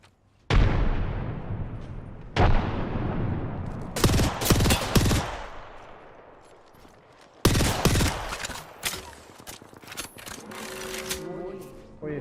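Apex Legends match: a frag grenade is thrown and bursts amid gunfire, with sharp blasts and decaying rumbles, rapid weapon fire in bursts and scattered clicks, loud and close, with people talking in parts.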